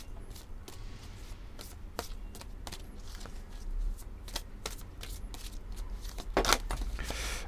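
Oracle cards are shuffled by hand in soft, rapid riffling and tapping, close and fairly quiet, with one sharper flurry near the end and no talk.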